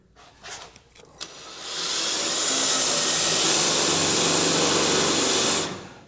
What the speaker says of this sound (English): So if we drill through here